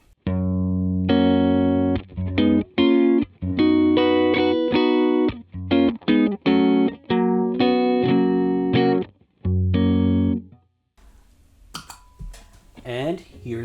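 An electric guitar plays through a Vox amp simulation on a Line 6 HX Stomp, giving crisp, moderately driven chords in short rhythmic bursts with brief gaps, and ends with a faint pause and a little handling noise.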